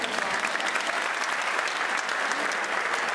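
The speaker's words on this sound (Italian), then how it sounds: "Però facciamogli un applauso più convinto, insomma." An audience claps at an outdoor music festival in Portacomaro, a dense, steady wash of many hands applauding together without pause, loud and close.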